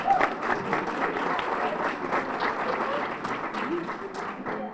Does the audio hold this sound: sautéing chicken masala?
no